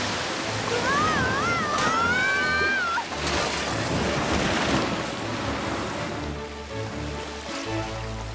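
Water gushing from a leak in a plumbing line, a loud, continuous broadband rush with music and a brief wavering tone near the start.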